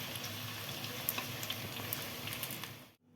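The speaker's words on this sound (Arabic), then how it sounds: "لازم تحطي زيت كتير علشان الكرنبيط يكون ايه، ياخد راحته كده في التحمير." Cauliflower frying in plenty of hot oil gives a steady, close, crackling sizzle with small pops throughout, then stops abruptly near the end.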